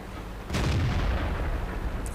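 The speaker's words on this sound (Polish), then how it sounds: "Teraz pudło, szybki strzał bez mierzenia." A tank cannon in a tank battle video game fires a single heavy boom partway through, its deep blast rolling off into a long decaying rumble, followed by a faint short click near the end.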